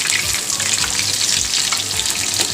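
Chicken pieces shallow-frying in a little oil over low heat, a loud, close, bubbling hiss that runs steadily throughout with no speech.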